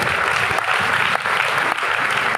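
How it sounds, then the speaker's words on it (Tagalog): A church congregation applauds loudly and steadily, dense continuous clapping from a crowd of worshippers with no voices standing out. "Malakas sa palakpak sa ating mga Panginoon"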